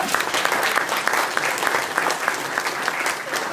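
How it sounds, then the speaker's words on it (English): Steady audience applause fills the space after a call to honor presenters at a hospital virtual tour event, dense clapping holding at an even level throughout with no talk over it. "Can we give them a round of applause?"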